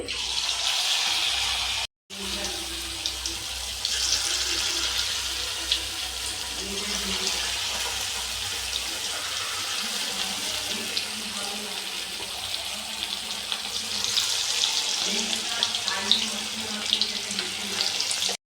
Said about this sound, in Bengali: তো গাইস পকোড়া ভাজা হচ্ছে